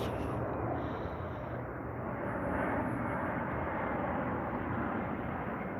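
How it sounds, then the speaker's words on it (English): A fixed-wing airplane passes overhead in Spokane, a steady, loud broadband engine roar that fills the whole stretch without letup and with no voices over it. "I'll explain why as soon as this plane goes over us."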